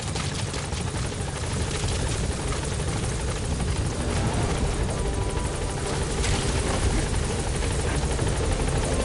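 The Pequod helicopter in Metal Gear Solid V: The Phantom Pain lifts off, its rotor chop and engine noise a loud, steady, close wash that fills the whole span without letup.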